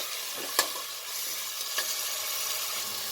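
Spices sizzle in a pan for a kabuli chana pulao, a steady frying hiss broken by two sharp scrapes of stirring.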